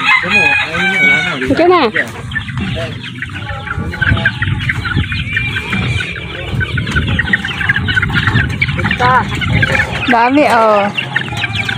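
Chickens cluck and a rooster crows among chirping chicks on a mountain farm, a busy, continuous chorus of hungry fowl close by, with brief talk mixed in.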